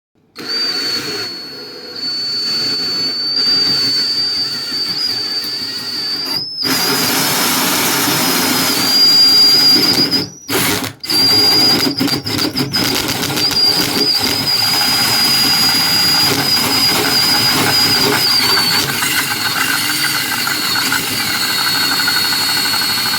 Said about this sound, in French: je te filme en même temps que je perce, ça va pas être évident